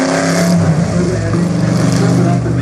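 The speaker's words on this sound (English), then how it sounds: "That's 8 cylinders, more powerful than the other engines, but it's just a big Ford." A 1964 Cobra Daytona Coupe with a modified Ford V8 drives past, its engine a loud, continuous, rough drone that stays close and steady throughout.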